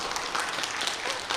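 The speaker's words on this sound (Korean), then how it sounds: "박수 한번 쳐주세요." Church seminar audience applauding, a short burst of steady, moderately loud clapping.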